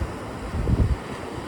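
Waves wash onto a Siesta Key beach, a soft surging swell that builds and recedes in a short, close burst over breezy wind noise.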